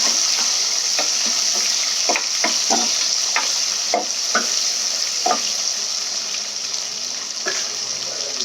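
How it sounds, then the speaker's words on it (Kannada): Onions frying in oil for chicken biryani, a constant bright sizzle with regular scraping stirs of a spoon against the pan, close and fairly loud. "ಇದರೊಟ್ಟಿಗೆ ನಾನು ಸ್ವಲ್ಪ ಆನಿಯನ್ನನ್ನು ಕೂಡ ಹಾಕೊತಾ ಇದ್ದೀನಿ. ಇದನ್ನು ಫ್ರೈ ಮಾಡ್ಕೊಳ್ಳೋಣ."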